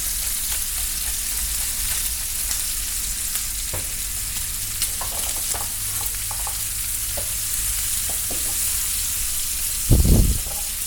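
Mushrooms sautéing with bacon in a pan give off a steady close sizzle, with occasional spatula scrapes and taps and a brief louder burst of hissing near the end.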